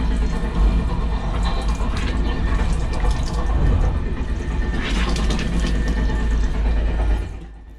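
Water runs from a tap in a first-class train toilet on a Slovakian coach, a steady splashing rush over the low rumble of the moving train, ending abruptly as the flow stops.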